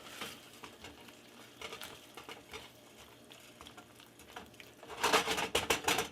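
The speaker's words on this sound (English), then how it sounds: "Stir it up." Eggplant sub filling is stirred in a pan on the stove, giving a soft bubbling sizzle with quiet scraping, then louder clattering stirs near the end.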